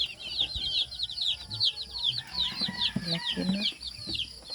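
Chickens and chicks cluck and peep inside a dark chicken coop, a steady chorus of high chirping over lower clucks, with a person speaking briefly nearby.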